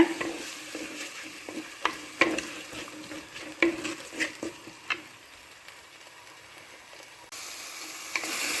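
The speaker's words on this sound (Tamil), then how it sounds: "அது கூட போதுமான சால்ட்டு கல் உப்பு இதை சேர்த்து நல்லா வதக்கிக்கிங்க" Onions sautéing with ginger-garlic paste and rock salt for a spicy chicken gravy, steady close sizzle broken by repeated clinks and scrapes of a spoon stirring the pan, with no talk.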